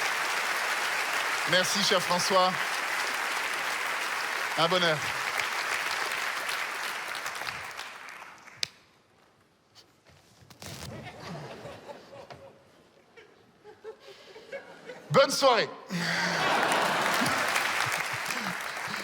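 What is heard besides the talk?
audience applause for the evening's president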